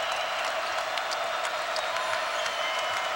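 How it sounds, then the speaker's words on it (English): A college basketball arena crowd roars and claps steadily at UCLA against Arizona, a broad wash of cheering and applause with scattered louder claps and no clear voice on top. "the crowd comes back to life"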